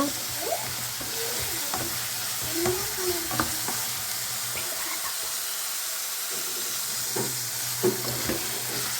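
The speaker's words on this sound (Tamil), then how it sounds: "கருவேப்பிலை நல்லா கிண்டி விட்டுக்கோங்க." Curry leaves frying and being stirred in a pan while making carrot chutney, with a steady close sizzle broken by scraping spoon strokes and brief clinks throughout, no talk.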